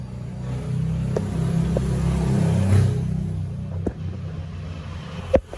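A Peugeot 308 engine idles noisily with its bay open. A steady, close, low rumbling drone is broken by a few sharp clicks and a knock near the end, with no talking.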